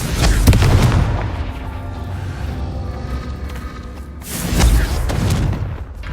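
Confringo fire-spell explosions in the Hogwarts Legacy video game, two deep booming blasts about four seconds apart, each followed by a rumbling roar that fades slowly, loud and close.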